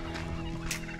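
Guinea fowl give a short burst of harsh, gobbling calls at moderate distance, with a brighter chattering note partway through.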